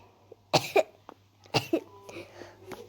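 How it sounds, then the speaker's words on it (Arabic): A person with a cold coughs twice, close and clear: two harsh bursts about a second apart, then a softer throat sound trailing off. "عندي برد يا جماعة، عشان هيك كحيت بهذه الطريقة"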